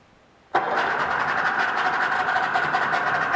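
A 1998 Yamaha 90hp two-stroke, oil-injected outboard boat motor with remote controls cranks over and catches after half a second of quiet, then settles into a steady, loud, close idle that runs without a break to the end.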